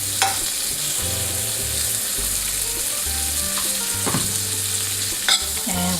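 Spreadable butter being worked into granola with almonds in a pan using the back of a spoon, a close, steady sizzle broken by a few sharp scraping clicks of metal against the pan, no talking.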